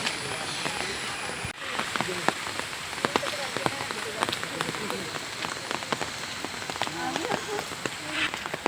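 Steady rain falls across an outdoor nature park, a dense continuous hiss with scattered sharper drops spattering close by throughout.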